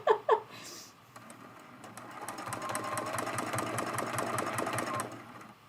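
A domestic sewing machine runs in a fast, steady mechanical patter for several seconds after a couple of brief knocks, close by and fairly loud, ending abruptly as it stops.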